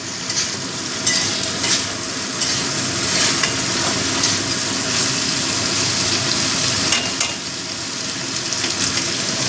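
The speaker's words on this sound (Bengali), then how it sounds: "মিশিয়ে দিচ্ছি, তাতে পেঁয়াজটা তাড়াতাড়ি নরম হয়ে যাবে।" Onion with salt sizzles steadily in a pan while it is stirred, with a loud, continuous frying hiss and occasional scraping strokes, with no talk.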